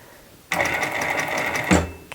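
A sewing machine stitches knit t-shirt fabric in one steady, whirring run of rapid needle clicks lasting just over a second, then stops with a soft clunk.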